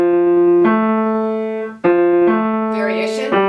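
Solo piano plays a passage from Fauré's Impromptu No. 5, Op. 102, section B: sustained chords in half notes struck about every second, ringing clear and close with a brief high flourish near the end, no talking.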